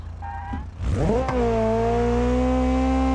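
A turbocharged Volkswagen Beetle in the BeamNG driving game revs up from a low idle into a loud, steady engine drone with rising pitch, heard alone without talk.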